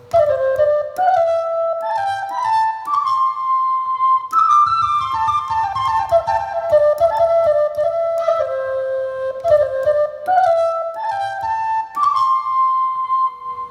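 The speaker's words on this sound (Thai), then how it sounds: "ต่อไปก็เสียงขลุ่ยไทยครับผม" A Thai flute sample on a Yamaha PSR-SX keyboard plays a breathy melody alone, sliding between sustained notes in a flowing phrase with soft ornamental bends.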